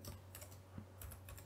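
Quick, uneven key taps on a computer keyboard while code is typed, a burst of clicks, a pause, then another cluster of close, fairly quiet strokes with no talk.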